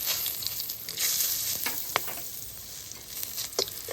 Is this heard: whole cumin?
yes